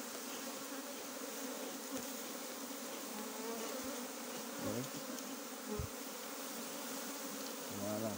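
Honey bees hum steadily around an open hive during inspection, a dense continuous buzz with a few soft knocks and handling sounds underneath.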